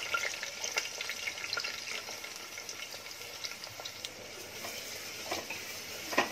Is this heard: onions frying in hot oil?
yes